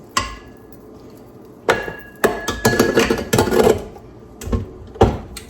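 A food processor whirls cinnamon honey butter in short pulses, with loud, rattling bursts and a few longer spins between quieter gaps, close up.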